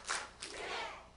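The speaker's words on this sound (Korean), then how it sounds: "박수 두 번 시작" Two sharp claps from a leadership seminar audience at a church, struck together in quick succession, with a fuller sound of many hands on the second.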